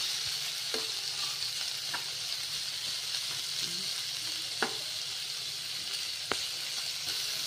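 Steady sizzling of chicken frying in a pan, with occasional clicks and stirring taps over a continuous hiss.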